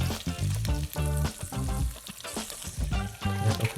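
Onions frying in a pan with meatball sauce juices, a sizzle under a voice that keeps talking throughout.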